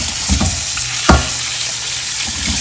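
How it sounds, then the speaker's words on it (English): Fresh fruits and vegetables rinsed under running water, a continuous hissing splash with a few louder knocks and splatters as produce is moved under the stream. "So I'll go ahead and rinse these"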